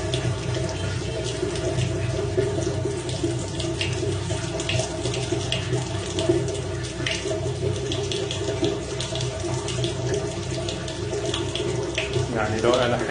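Strong water runs from a bathroom pipe in a steady, loud, continuous rush that lasts the whole stretch. It is close and unbroken, with faint background voices underneath.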